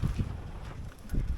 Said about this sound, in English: the wind is picking up quite a lot, actually. You can hear